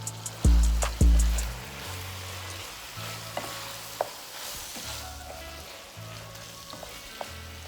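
Minced garlic sizzles steadily in a hot pan for a baked ziti sauce, with two loud knocks of a spoon or spatula near the start and scattered lighter scrapes and taps of stirring through the frying, with no voices.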